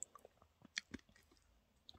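Someone chewing a crispy snack close to the mic, with a few sharp crunches followed by soft, moist squishing bites in a quiet room.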